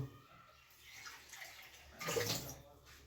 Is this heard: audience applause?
no